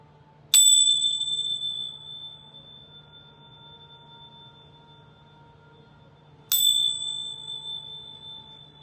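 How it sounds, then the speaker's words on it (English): Two clear, ringing strikes of a small bell before a prayer, each bright tone decaying slowly, with a long quiet gap between them and no talking. "I'm gonna ring my bells 3 times"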